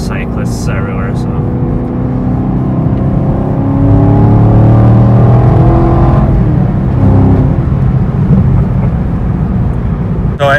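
A Chevrolet Camaro SS at about 110 takes turns on a road near cyclists, heard from inside as a steady loud engine drone with rising and falling pitch, with people talking over it.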